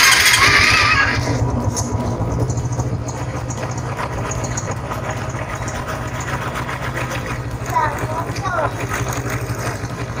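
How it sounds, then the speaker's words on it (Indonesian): A 2014 Honda Supra X 125 PGM-FI motorcycle idles after an electric start, giving a smooth, steady, close putter that runs throughout, with a brief higher whine at the very start. "Suara mesinnya sendiri ini"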